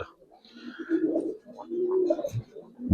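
Giribaz and coloured pigeons coo in soft, low repeated phrases with a few brief chirps, close by, with faint voices and handling noise in the background.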